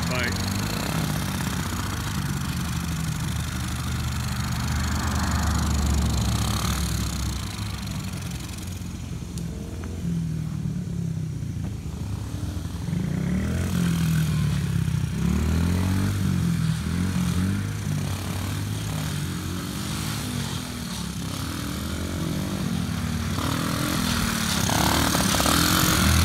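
A dirt bike engine drones steadily at close range through the whole stretch, its low rumble rising and easing slightly, with voices talking over it in an outdoor yard.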